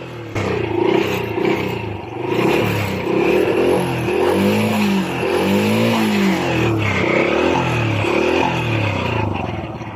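A small Honda Wave 100 motorcycle engine revs hard and holds high throttle, its pitch rising and falling in sweeps, loud and close throughout.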